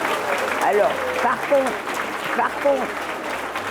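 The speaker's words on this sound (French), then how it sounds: "Donc, applaudissez vos professeurs." Students clap for their teachers in continuous, moderate applause, while a voice talks over it.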